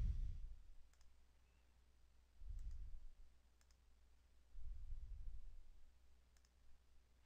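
A computer mouse gives a few faint, widely spaced clicks over a quiet room tone, with low rumbling bumps of handling noise between them.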